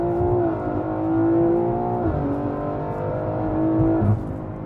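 A 1000 HP stage 3 tuned BMW G80 M3 accelerating hard on the street, a loud, steady droning engine roar that rises in pitch through gear changes and then drops off near the end.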